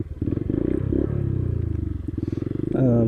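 A motorcycle engine runs close by with a rough, pulsing low rumble and rapid regular firing beats, swelling briefly louder near the end.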